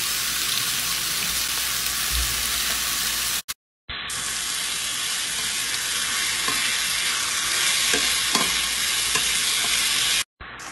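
Small chicken pieces fry with garlic in a hot pan, a dense continuous sizzle with occasional stirring scrapes, broken by two brief cutoffs.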